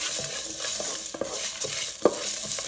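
Grated coconut dry-roasting in a pan for sundakkai curry kulambu, stirred steadily, giving a constant close hiss and sizzle broken by soft scraping strokes of the spoon.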